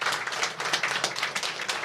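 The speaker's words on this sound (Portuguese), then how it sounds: "eu quero pedir uma salva de palmas para você" An audience at a press conference claps together in a steady, dense burst of applause, fairly loud and close.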